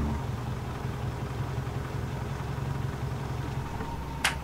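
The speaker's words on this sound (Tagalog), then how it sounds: "pakinggan nyo naman yung makina niya, no?" Engine of an owner-type jeep with no aircon or power steering idles steadily and quietly throughout, a low even hum with a brief sharp noise near the end.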